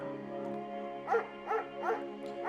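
A German shepherd in the video game Firewatch gives four evenly spaced barks, moderately close, over a steady droning game backdrop.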